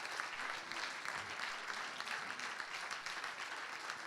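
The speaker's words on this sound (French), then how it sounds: "Je voudrais juste vraiment que vous preniez le temps de les applaudir très très fort" Conference audience applauding the partners at a Homeclik roadshow event in Bordeaux, a steady dense wash of clapping that holds evenly throughout, fairly far and moderate in level.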